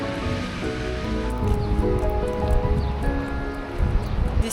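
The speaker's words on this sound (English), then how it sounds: "The sea today is so rough." Rough sea waves in Malta wash and churn close by, a continuous loud roar of surf with shifting swells and a faint tonal hum in the background.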